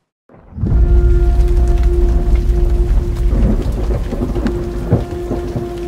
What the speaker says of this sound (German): Regen. Das wohl häufigste Naturereignis auf der Insel.